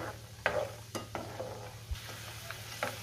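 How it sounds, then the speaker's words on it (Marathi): Peanuts being dry-roasted in a pan for sabudana chivda, with sporadic scraping stirs and light clinks over a faint low hum, no talking. "आता मी शेंगदाणे भाजून घेणार आहे।"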